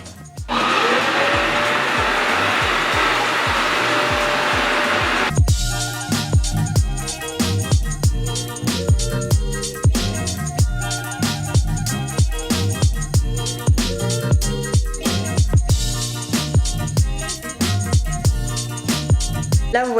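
A Tineco carpet cleaner vacuums a rug with strong suction: a loud, steady, close whirring roar for about five seconds, then it cuts out and rhythmic music takes over.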